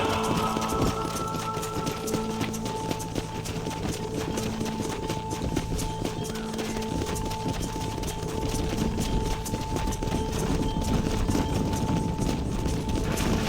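Horse hooves clip-clop through the video game Red Dead Redemption during a cattle-herding ranch scene, a dense continuous patter of hoofbeats under steady background noise and game music tones.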